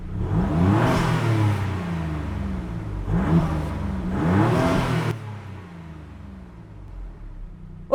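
A Maserati MC20 engine revs hard in Corsa mode in loud rising bursts, roaring up twice more before settling into a lower idle rumble.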